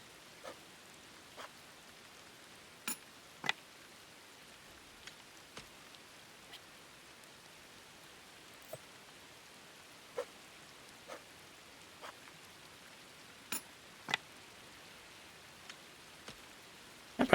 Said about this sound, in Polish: Jeszcze deszczyk nam tutaj pada ładnie